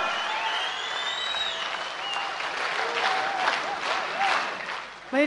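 Warm audience applause for a singer rolls on at an even level, with faint cheers and whistles rising through it and a voice briefly heard beneath it near the end.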